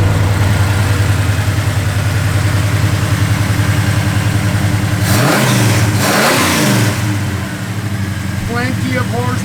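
A 1970 Chevrolet Chevelle SS V8 rumbles steadily at close range, then blips its throttle into two sharp revs about midway before settling back to a deep idle, with a faint voice near the end.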